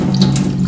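Hot water gushes steadily from a kitchen tap, a close, continuous splashing rush lasting under a second with no voices.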